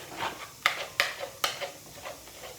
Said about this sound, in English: So I have to use my spoon to blend the Maggi and it will give you this look